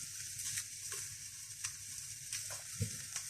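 Onions and garlic fry in a pan with smoked paprika, giving a quiet, steady hiss broken by a few soft stirring clicks and scrapes, with no talking.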